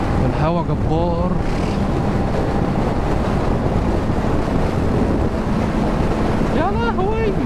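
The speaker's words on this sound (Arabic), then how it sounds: "الهوا جبار." Strong wind buffets the microphone continuously while driving, a loud steady rumbling roar, with a voice talking briefly at the start and again near the end.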